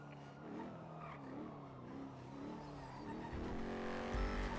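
Engine of a car driven through city streets in GTA NoPixel, a steady mid-level drone that swells and rises in pitch toward the end as the car accelerates, with no talk.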